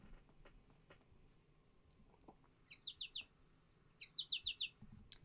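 American goldfinch giving its potato chip contact call in an eastern woodland: two quick bursts of three or four thin, bright chirps, fairly close against a quiet background.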